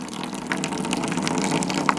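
Water gushes from a gravity-fed off-grid homestead system with no pumps, making a steady rushing splash at moderate loudness that runs the whole time, alone with no voices.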